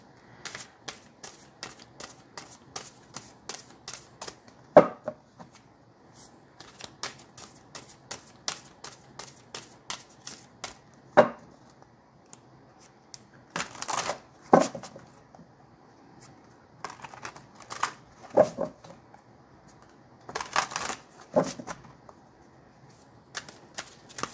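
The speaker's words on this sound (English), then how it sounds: "Okay, I'm going to cut the deck." A tarot card deck is shuffled by hand in repeated bursts of crisp riffling and flicking, separated by soft taps and short pauses, close and fairly quiet.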